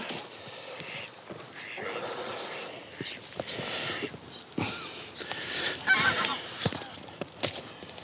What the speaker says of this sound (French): j'ai cette oie cendrée qui est là, qui reste très calme, au pied de hutte, juste sous la guignette